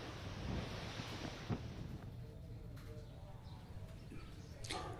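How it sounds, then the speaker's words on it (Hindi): Wind gusts during Cyclone Biparjoy in Jalore, Rajasthan, as rain falls intermittently, a steady broadband roar with buffeting on the microphone and a few sharper gusts, continuous throughout. "अभी भी रुक रुक कर बारिश हो रही है, हवा चल रही है।"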